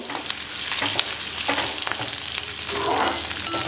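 Tempering (phodni) for thin poha chivda hisses and crackles in hot oil, a dense, bright sizzle with scattered pops and steady stirring, close up and without talk.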